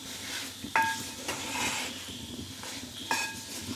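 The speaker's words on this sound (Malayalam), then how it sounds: "അതിട്ട് ഇങ്ങനെ ഇളക്കി കൊടുക്കണം." Fried beef is stirred into chili masala in a pan, with a soft sizzle under scraping strokes and two sharp metallic clinks of a utensil against the pan.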